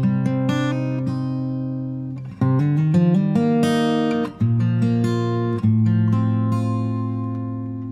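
An acoustic guitar is recorded with a large-diaphragm condenser mic placed on axis with the sound hole, giving strummed chords and ringing plucked notes in a clear, close sequence with no talking.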